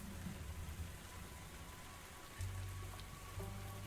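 Gentle rain patters softly and steadily, faint and distant, with a low hum underneath and a few quiet shifts in the background.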